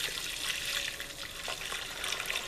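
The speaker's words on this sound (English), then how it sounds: "I'm going to quench this just to stop the cooking. I'm going to add my water." Water is poured into a hot jambalaya pan and sizzles with a steady bubbling hiss, close by and moderately quiet, with no talking.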